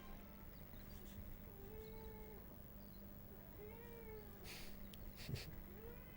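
A cat gives a string of faint, repeated meows at a distance over a steady background hum, with a few short clatters near the end.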